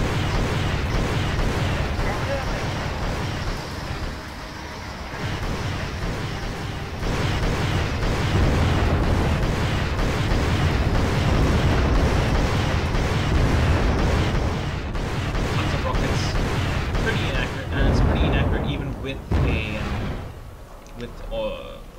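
Soviet artillery barrage in a video game: a long, dense rolling rumble of distant blasts and booms, thick and sustained, with someone talking over it throughout.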